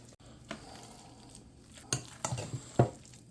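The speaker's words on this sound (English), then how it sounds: "And we're just going to fold this in" A cheesy potato casserole mixture folded in a bowl, soft scraping and wet thuds as a spoon drags down the side and lifts, several uneven strokes, close and quiet without talk.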